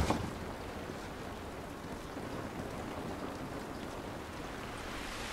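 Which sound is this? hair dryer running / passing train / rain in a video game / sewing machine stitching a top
rain in a video game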